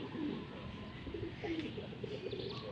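Racing pigeons return to their loft after a first toss, giving soft, low cooing calls that repeat faintly over a steady background hiss, with no talking.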